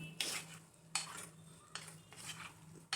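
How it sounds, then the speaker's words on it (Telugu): A spoon scrapes and knocks against a pan as fried paneer curry is stirred up and down, several distinct strokes spaced about a second apart, close by with a faint background hum. "ఇప్పుడు దీన్ని అప్ అండ్ డౌన్ కలపండి"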